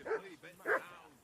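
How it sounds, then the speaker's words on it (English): Faint dog barking in the medieval video game Kingdom Come Deliverance 2: two or three quick yelping barks, soft and somewhat distant, with no talk. "I assume you can hear that damn dog of yours barking."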